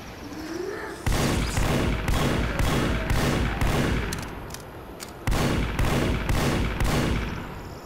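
Repeated video game gunfire aimed at a building, with loud, rapid bursts in a steady rhythm that continue through most of the clip, pausing briefly once before resuming, with no talk.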